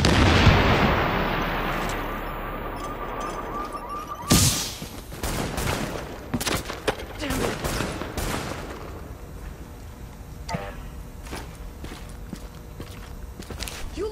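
Gunfire and an explosion ring out in the game Tom Clancy's The Division, starting with a rumbling blast that fades, then a sharp bang and rapid bursts of shots alongside scattered footsteps and impacts.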